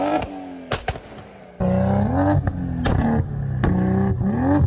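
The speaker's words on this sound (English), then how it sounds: "Do you think these clips of these M140i's are safe aftermarket pop and bang tunes?" Aftermarket pop-and-bang tuned BMW M140i exhaust, loud sharp cracks and bangs fired in irregular bursts over a rumbling, revving engine note.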